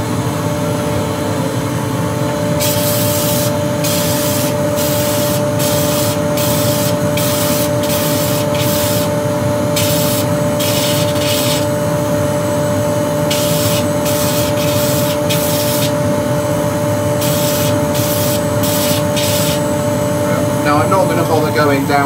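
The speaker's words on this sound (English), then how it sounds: "Charlie, this is the extractor on just for a little while" A dust extractor running steadily in a woodturning workshop, a loud constant roar with a tonal whine, while a person talks over it in bursts.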